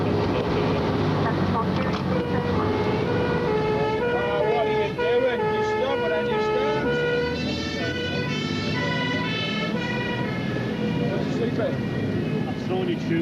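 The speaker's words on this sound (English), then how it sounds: "both engines will respond" Two fire engines of a 1997 Merseyside fire crew race to a house fire, wailing sirens sweeping up and down loudly and continuously over a rumbling engine, with crew voices talking underneath.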